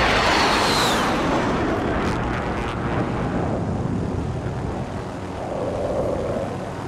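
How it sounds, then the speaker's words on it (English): A helicopter moves in the video game Call of Duty: Modern Warfare, its loud engine and rotor drone holding steady throughout with a brief whoosh near the start and no talk. "I'm gonna move this helicopter a bit."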